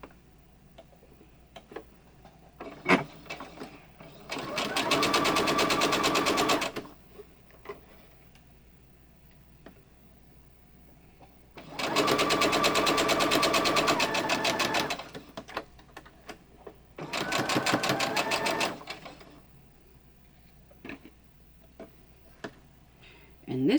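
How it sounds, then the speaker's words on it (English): Sewing machine chain stitching quilt block pieces, three bursts of rapid mechanical needle chatter each lasting a few seconds, separated by quiet pauses with small clicks and handling sounds, close and clear. "I've moved my needle position to the center, and then we're just going to sew."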